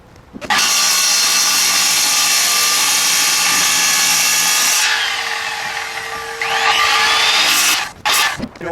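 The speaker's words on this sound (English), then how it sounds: "You need a skill saw." A circular skill saw rips through wood batten strips on a tile roof, a loud sustained whining cut lasting several seconds, pitch dipping mid-cut, then winding down with a brief burst at the end.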